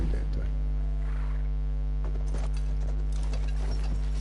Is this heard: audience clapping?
no